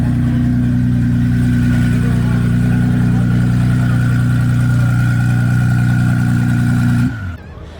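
A twin-turbo Nissan GT-R engine held at a steady, loud droning rev at a car event booth, its deep rumble constant for several seconds before cutting off abruptly near the end.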